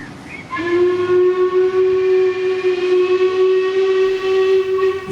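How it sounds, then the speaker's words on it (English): A steam locomotive's whistle gives a long, loud, steady hoot as a warning before a special charter train departs, close by with a hiss of steam underneath and no talking. "The special departed dead on time after giving the usual 5-minute warning hoot to any last-minute passengers."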